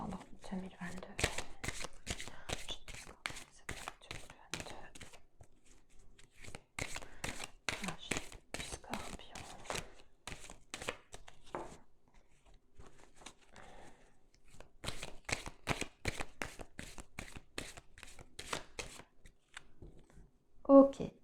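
Tarot cards being shuffled by hand in bursts of quick, crisp riffling clicks, close and quiet, pausing between rounds, with a final soft tap as the deck is cut.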